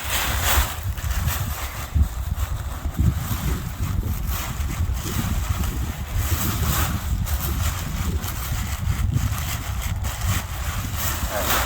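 Wind blustering over a paragliding wing being kited outdoors on a cold day, a loud constant rushing roar with flapping gusts dominating throughout.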